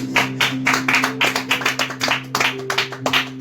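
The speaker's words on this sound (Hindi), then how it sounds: "बच्चे अपने सर को ताली द्वारा स्वागत करें।" Students at a Teachers' Day coaching-class celebration clap to welcome their director, a steady run of close, sharp handclaps in uneven rhythm over a low steady hum.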